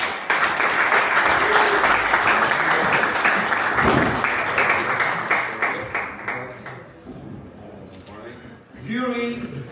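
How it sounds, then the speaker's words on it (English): Audience applause at a football transfer conference fills the room as a dense, sustained wash of clapping, thinning out after several seconds as a voice talks over the fading claps. "First, applause to Fernando Matos, Director of Scouting"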